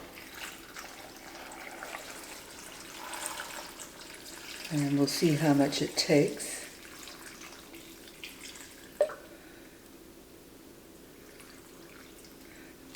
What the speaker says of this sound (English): I'm going to start by adding the water.